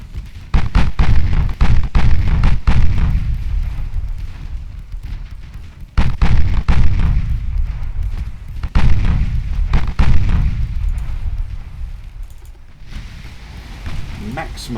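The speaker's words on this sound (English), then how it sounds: "A vicious mauling from 8-inch guns will have to do, I suppose." Heavy 8-inch naval guns fire in the warship game Ultimate Admiral Dreadnoughts: loud, repeated deep booms roll out one after another, each with a long rumbling decay, over a constant low background rumble.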